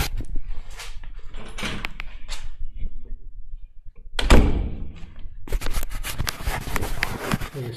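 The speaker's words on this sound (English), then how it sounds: "Shut this door." A trash room door on a building's third floor swings shut with a loud thud partway through, surrounded by shuffling, rattling handling noises before and after.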